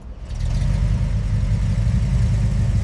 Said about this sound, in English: That deep, throaty rumble is exactly what you want from a 50s police interceptor.